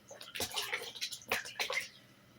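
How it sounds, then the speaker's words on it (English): Quiet splashes of water onto socks, a few short irregular dabs and sloshes close by, with no talking. "Oh, just splashing it a little bit."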